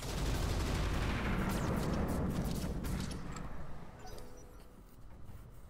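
Weapons fire in the Roguetech mech combat video game, a dense loud barrage of rapid overlapping shots and blasts that thins out and fades toward the end, with no speech.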